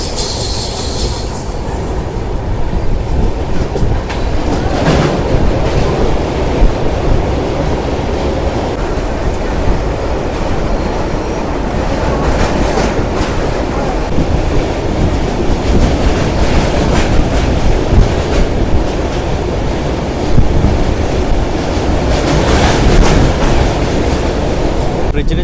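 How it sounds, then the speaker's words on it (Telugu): Bokaro Express train running across the Godavari river bridge, a steady loud rumble of wheels and rail clatter holding for the whole stretch with occasional brighter squeals and no pauses. "మన ట్రైన్ వచ్చేసి బ్యూటిఫుల్ కర్వ్ అయితే తీసుకుంటుంది"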